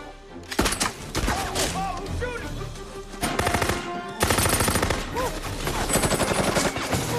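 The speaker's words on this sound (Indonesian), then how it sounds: "tiba-tiba terdengar suara tembakan" Bursts of gunfire in a violent action film scene, with rapid machine-gun volleys and single shots over dramatic music, loud and sustained throughout.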